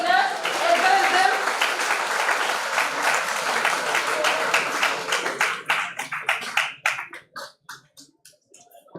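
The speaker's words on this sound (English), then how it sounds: "please give a huge round of applause for the winners" Audience applause for the winners at a university project expo valedictory ceremony: dense, sustained clapping from a large crowd that thins over the last few seconds into scattered individual claps.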